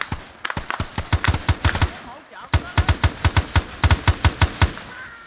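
Rapid gunfire bursts ring out in a tactical ARMA 3 firefight during a friendly-fire incident: loud, close, evenly spaced shots in two long volleys separated by a short pause.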